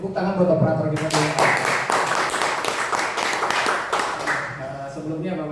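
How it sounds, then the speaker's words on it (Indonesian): An audience at an Indonesian business presentation event claps for the event operator, a dense burst of applause that rises after a second and then fades, with a voice speaking briefly at the start. "Tepuk tangan buat operator kita dulu."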